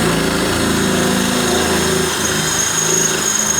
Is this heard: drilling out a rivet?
yes